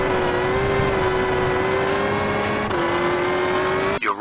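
A rally car engine in the Richard Burns Rally sim holds a loud, steady high rev for about four seconds, dipping briefly near the end before cutting off.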